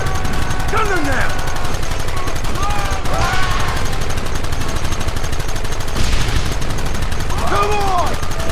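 Gunfire in a Red Dead Redemption shootout rattles steadily for the whole stretch, a dense continuous crackle of rifle and gun shots with shouted voices cutting in over the din.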